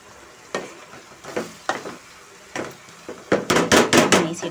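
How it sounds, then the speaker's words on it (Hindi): Jackfruit masala sizzles in a pan as water goes in, giving a series of sharp hissing bursts with short pauses that grow louder and denser toward the end. "अब मैं इसमें थोड़ा सा पानी डालूँगी जिससे कि मसाला अच्छे से पककर तैयार हो जाए"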